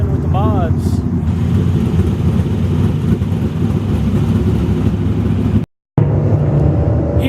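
Modified race cars run on a dirt track, a loud, continuous rumbling roar of several engines heard from nearby with heavy wind buffeting, one brief dropout and a faint voice early on.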